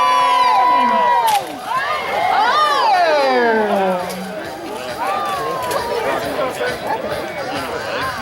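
Spectators at a jousting tournament cheer and whoop as armored riders charge, a loud, lively crowd of mixed voices including children's shouts, rising and falling over several seconds, with a commentator's voice close by over the noise.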